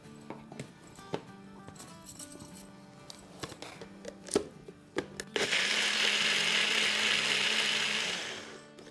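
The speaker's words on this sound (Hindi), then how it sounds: "तो बस इसको ग्राइंड करेंगे" Electric grinder blending green chutney with vinegar: after clattering and tapping of kitchen items, the motor kicks on abruptly and whirs loudly and steadily for several seconds before winding down.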